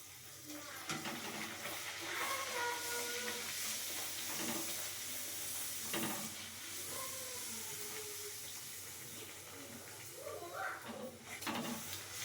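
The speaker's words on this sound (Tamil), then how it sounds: "இப்போ பூரி போட்டு எடுத்துக்கலாமா?" Puris deep-frying in hot oil for a poori and potato masala dinner, a steady broad sizzling hiss with bubbling crackle throughout, fairly close, with no talking.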